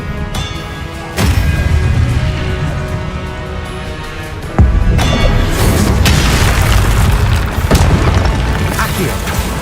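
Spell effects from the Hogwarts Legacy video game, Expelliarmus and Accio casts, sound as loud booming bursts with sharp onsets over a dense, sustained game soundscape, while a voice repeatedly calls out the spell names.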